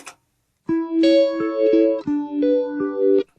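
An electric guitar through a Line 6 POD HD300 phaser effect plays a short series of sustained notes with a sweeping, swirling modulation, clear and close with no talking.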